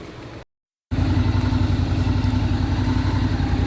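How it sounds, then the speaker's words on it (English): A motorbike engine catches after a brief silence and settles into a steady, close idle with an even mechanical pulse, parked in a short-stay lot at Gatwick North. "Bike started, and yeah, everything is functional"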